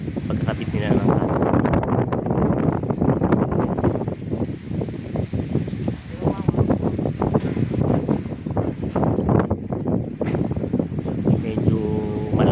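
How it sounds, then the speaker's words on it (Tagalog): Strong wind buffets the microphone at a construction site where expandrill panels are being installed, a constant loud rushing roar with gusts throughout and voices speaking under it. "Medyo malakas ang hangin"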